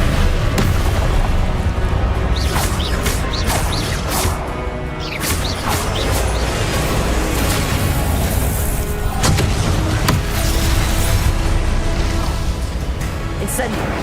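Spell blasts and fiery Confringo explosions from the Hogwarts Legacy video game, with dense repeated booms and crackling impacts under a continuous loud battle bed, while spell incantations are spoken throughout.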